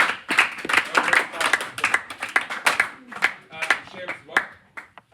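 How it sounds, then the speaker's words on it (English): A group of people claps in a quick, uneven run of sharp, close handclaps that thins out and stops near the end. "Clap, clap, clap."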